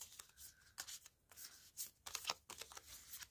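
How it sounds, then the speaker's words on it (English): Three playing cards are shuffled by hand, giving faint papery slides and rubs in short uneven bursts, close and quiet with no talking. "how do you shuffle three cards?"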